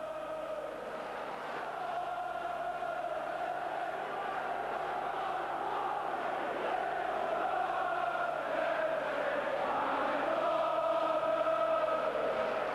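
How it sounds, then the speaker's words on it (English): Steady roar of a football stadium crowd at Sunderland versus Millwall, a broad, sustained murmur that swells slightly toward the end, moderately distant with no clear voices. "there's no keeping the crowd quiet now"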